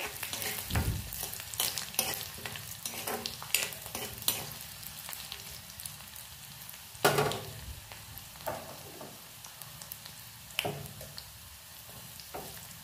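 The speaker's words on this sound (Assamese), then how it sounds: "আদা আৰু নহৰু দি পেলাই মই অকন ভালকে ভাজি লৈছো নহৰু গুণটো যোৱাকে" Oil sizzles steadily as ginger and garlic fry in a pan, with repeated scraping and clinking of a spoon stirring, some strokes sharper and louder.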